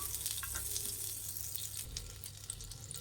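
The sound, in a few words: butter melting and sizzling on a hot tava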